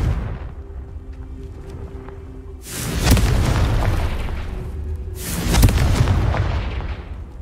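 Two heavy booming explosions from the Confringo spell in the video game Hogwarts Legacy, each a deep blast that rumbles and slowly fades, the second about two and a half seconds after the first.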